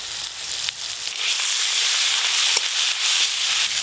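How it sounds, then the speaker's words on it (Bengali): Panch phoron spices, a dried chilli and chopped tomato fry in mustard oil, giving a continuous bright sizzle with a few sharp pops and spits, close and alone without any talk. "ফোড়নে 5 ফোড়ন আর একটা শুকনো লঙ্কা দেব। টমেটো কুচি দিয়ে দেব।"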